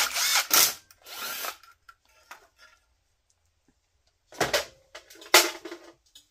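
A power tool runs in short separate bursts while 10 mm bolts come off the choke assembly of a Vanguard 18hp engine: two bursts near the start, faint clicks in a quiet gap, then two more bursts, close by.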